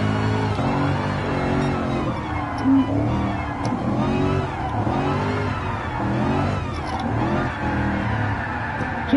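A drifting car in the racing game Gran Turismo Sport revs hard and steadily, its engine note rising and falling through sweeping pitch changes with no pause across the span.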